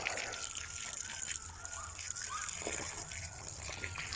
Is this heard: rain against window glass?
no